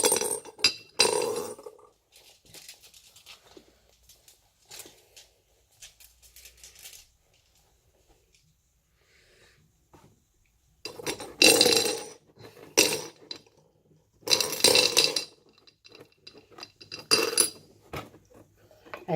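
Glass jar and lid handled, clinking and scraping in short bursts separated by near silence, close and crisp, with a few louder clusters of rattling contact toward the end.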